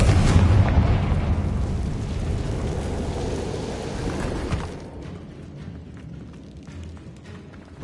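A Confringo blasting-spell explosion in a video game starts with a loud, deep rumbling boom. It decays gradually, drops sharply after about five seconds, and then lingers as faint crackling debris.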